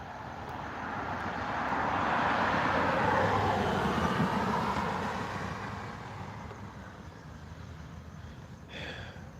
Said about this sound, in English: there's no traffic except for the occasional car you might be able to hear